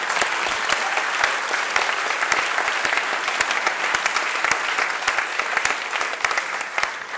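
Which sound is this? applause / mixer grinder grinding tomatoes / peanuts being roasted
applause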